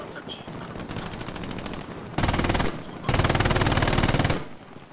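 Rapid machine-gun bursts in an online multiplayer shooter match, continuous automatic fire that grows louder in two sustained stretches, close and dense, with the fire carrying on steadily through the clip.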